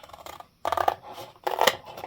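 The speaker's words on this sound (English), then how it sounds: "I'm just going to use scissors" Scissors snip through a journal cover to cut out the spine, giving two distinct, close crunchy cuts with a brief pause between them and nothing else around.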